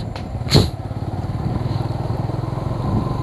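A motorcycle engine revving and accelerating along a road in Pulang Pisau, heard close and steady with a throbbing, pulsing drone after a brief louder burst near the start.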